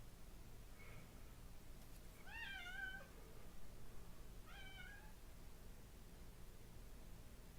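An angry cat meows because it wants to go outside. Two drawn-out, fairly faint yowls are heard a couple of seconds apart, with a soft hum and hiss of room noise underneath and no talking.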